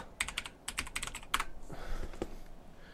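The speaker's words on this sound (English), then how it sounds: "It's mechanical keyboard, okay? I'm not typing hard." Quiet, clicky keystrokes on a mechanical keyboard come in quick uneven bursts with brief pauses between, close up with no voices.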